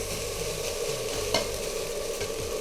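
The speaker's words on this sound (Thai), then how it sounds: "จากนั้นก็ผัดนะครับ แล้วก็จะคั่วนิดหน่อยนะครับ" Rice and pork cracklings are stir-fried in a hot pan, with continuous sizzling and repeated scraping strokes of a spatula, close and steady with no talking.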